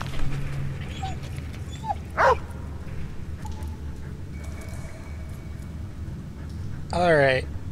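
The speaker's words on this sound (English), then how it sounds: "Doggy." A dog in the video game Valiant Hearts barks sharply and whimpers, with a short bark early and a longer whining whimper near the end, over steady game ambience and a voice speaking.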